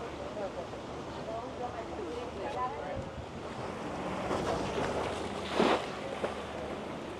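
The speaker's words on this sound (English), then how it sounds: "the waves are splashing over" Ocean waves wash and splash over the rocks near the southernmost point buoy in Key West, a steady surf with one louder splash, mixed with wind noise and faint voices nearby.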